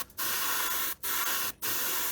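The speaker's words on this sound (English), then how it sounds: "it's spraying, seems to be spraying a little bit smoother" A spray gun steadily hisses out Mission Models paint thinned with poly additive, the continuous spray broken by two brief pauses between bursts.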